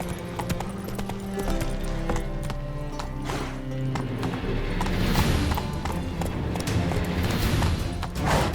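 Roach, a horse in The Witcher 3, gallops with a continuous rhythmic clatter of hooves under a bed of game music, the pounding steady and fairly loud across the whole stretch, no speech.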